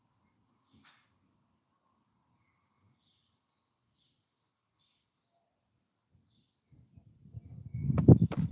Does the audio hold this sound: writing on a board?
no